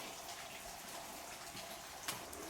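Rain falls outside an abandoned apartment building, a faint, steady hiss of broadband noise with one brief louder splash near the end and no talking.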